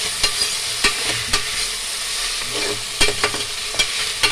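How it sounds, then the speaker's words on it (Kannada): Mixed vegetables and tomato with curry leaves fry in a pan for vegetable pulao, a steady close sizzle broken by repeated sharp clacks of a spoon stirring against the vessel. "ಚೆನ್ನಾಗಿ ಸ್ವಲ್ಪ ಹೊತ್ತು ಫ್ರೈ ಆಗಬೇಕು ಎಲ್ಲ ತರಕಾರಿನೂ."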